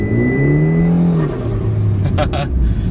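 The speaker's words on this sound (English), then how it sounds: "It doesn't allow it to change gears, especially in second gear, just like high revs itself." A Mitsubishi Evo engine with a faulty clutch revs high on its own, a loud close whining drone that climbs and dips, with a brief burst of extra noise near the end.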